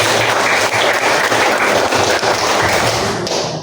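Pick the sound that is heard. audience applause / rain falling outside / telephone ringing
audience applause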